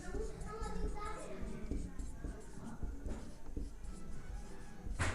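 Marker or chalk taps and scratches on a board during a Class 10 maths lesson, in short strokes beneath a teacher's steady talking.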